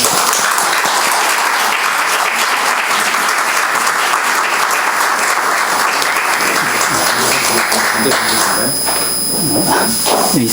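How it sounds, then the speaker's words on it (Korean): A church congregation at an officers' retreat gives warm applause to welcome a professor and pastor to the stage. The clapping is loud and sustained, then thins out near the end as a voice begins. "뜨거운 박수로 우리 환영해 주시면 고맙겠습니다"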